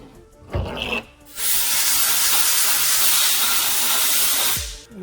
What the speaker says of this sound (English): So I just went and blew this out with air to get the aluminum chips out.